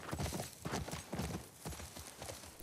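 Horse hooves clip-clopping in the video game The Last of Us Part II, a quick run of soft thuds at a steady walking rhythm, fairly quiet and close.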